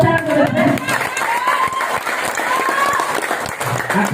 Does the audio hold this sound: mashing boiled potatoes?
no